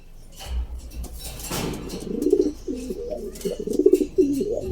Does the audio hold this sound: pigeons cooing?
yes